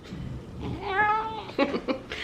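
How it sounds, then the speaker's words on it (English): Pet cat indoors giving a single drawn-out meow that rises and falls, close and clear, followed by a couple of faint short sounds. "If you keep meowing, you're gonna have to get on the camera."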